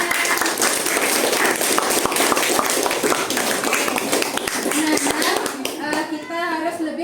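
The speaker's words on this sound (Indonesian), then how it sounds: "Tepuk tangan." A class of children claps hands together in a busy, steady burst of many overlapping claps, with kids' voices rising as the clapping thins out near the end.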